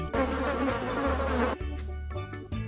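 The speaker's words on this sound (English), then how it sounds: "Yellow bee." A yellow bee buzzes loudly and close in a steady drone for about a second and a half, then in short separate bursts.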